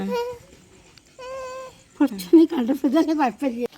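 A cat gives two drawn-out meows with short gaps between them, then a burst of nearby talking and more vocal sounds follows.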